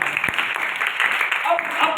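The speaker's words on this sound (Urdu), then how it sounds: "زوردار تالیاں اس کے خدا کے لیے، زوردار تالیاں۔" Clapping from a church congregation during a prayer sermon, a moderately loud, uneven wash of applause with reverberant room tone and a voice sounding over it.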